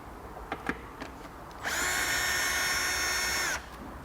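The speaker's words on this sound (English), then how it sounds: "You'll need to remove these 2 fasteners, T30 Torex drivers." A power driver fitted with a T30 Torx bit backs out a fastener while a Vespa GTS is fitted with a topcase. A few light taps come first, then a steady high whir runs for about two seconds and stops.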